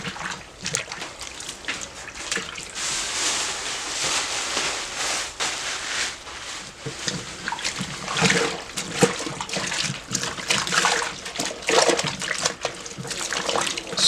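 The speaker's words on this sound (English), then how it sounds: "And now we can add our fiber. So, and submerge it when you add it." Alpaca fiber is pushed down into a tub of washing water, giving steady sloshing, trickling and soft splashes close by that swell and fade across the whole stretch, with no voices.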